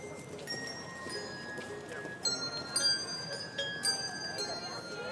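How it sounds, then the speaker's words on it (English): Bells ring out Christmas music outdoors in front of the Detroit Historical Museum, sustained bright tones forming a melody over a steady murmur of a crowd. "they have people playing Christmas music with bells, and it's sweet and beautiful"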